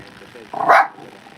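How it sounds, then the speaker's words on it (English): A single dog bark, short and fairly close, bursting out once against a quiet indoor background. "No, stop barking at me."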